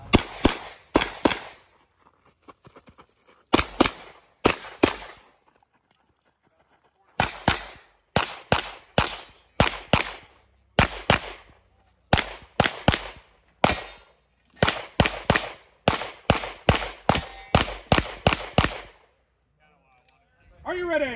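Loud, close pistol gunfire at a USPSA stage during the 2023 Kentucky state championship: rapid pairs and strings of sharp shots in bursts separated by short pauses, ending in quiet.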